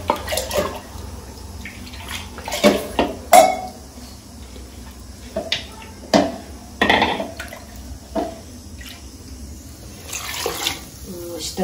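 Lentils for a mixed-vegetable sambar are rinsed in a metal pot and the water poured off, making intermittent bursts of sloshing, splashing and clinking metal with quiet pauses between.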